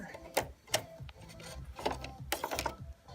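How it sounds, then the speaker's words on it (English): A screwdriver works a screw out of the side cover of a Sanyo XGA projector, giving a series of close, sharp clicks and scraping turns at irregular intervals, with no talking. "You need to get a screwdriver and take out this screw on the side so you can open the cover."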